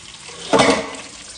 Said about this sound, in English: This is the way we wash our hands so much when we are cooking.